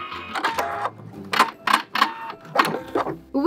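Sewing machine stitching around the edge of a fabric oven mitt, running in several short bursts with brief pauses between, close and clear, with no talking.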